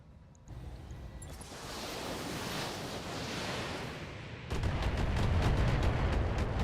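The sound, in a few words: LRM missile barrage in BattleTech video game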